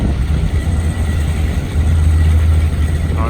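A GATX SD40-2 diesel locomotive rumbles steadily at a Montreal rail line, a loud, continuous low engine drone with a faint higher whine, no talk over it.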